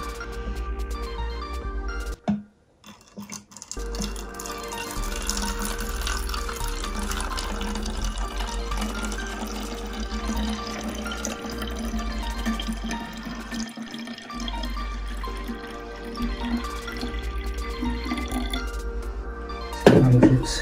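Water pours steadily into a jug for about twenty seconds, a continuous close splashing stream that briefly cuts out early on, with a louder gurgle at the finish.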